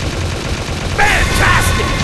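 Rapid gunfire in the mobile zombie shooter Zombie Survival: Game of Dead crackles as a dense, steady burst of shots under a continuous game soundscape, with a brief announcer-like voice partway through.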